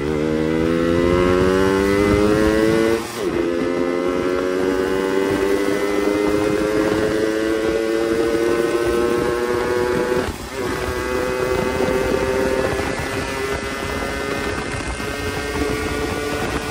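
A ported Yamaha RXZ two-stroke motorcycle engine revs loudly and close, its pitch climbing steadily through long pulls with two brief dips where the throttle drops before rising again.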